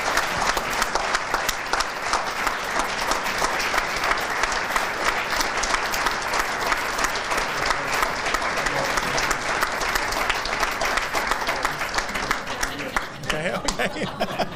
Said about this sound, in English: Please join me in welcoming and applauding Chad Reichert